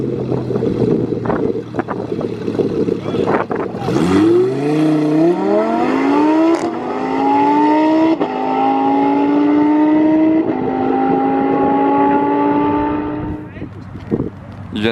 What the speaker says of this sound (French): Il vient de faire un petit burn statique